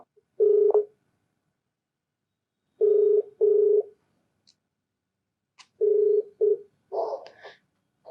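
Telephone line tones as a call is placed on a Telugu phone-in advice programme: short, even electronic beeps in separate bursts, a pair and then a cluster, with silence between them and no talk.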